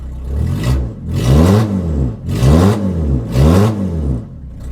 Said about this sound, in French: Donc là, on est en échappement libre.